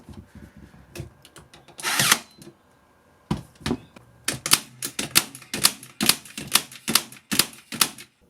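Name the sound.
Ozito stapler and nailer firing into pine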